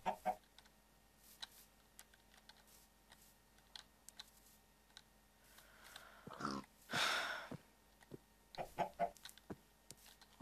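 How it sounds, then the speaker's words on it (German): Chickens clucking in the video game Minecraft, short faint clucks scattered through the clip with soft keyboard clicks, then a louder burst near the middle and a few more clucks at the end. "Ich brauche aber jetzt Hühner."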